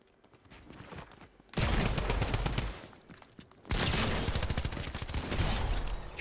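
Drum gun in Fortnite firing two long, loud bursts of rapid automatic gunfire, separated by a short gap, with quieter shots before the first burst.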